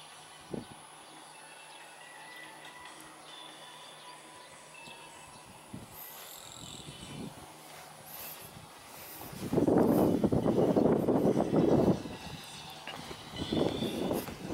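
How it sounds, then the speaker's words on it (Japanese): A train rumbles into an unstaffed rural station in Kyushu, Japan, after a quiet stretch with faint birds, growing loud and rushing for a couple of seconds, then easing before surging again. "電車が来ました。"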